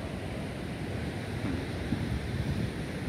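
Sea surf rolls steadily at Karang Potong beach in Sindangbarang, Cianjur, a constant broadband wash of waves with some wind rumble on the microphone and no voices.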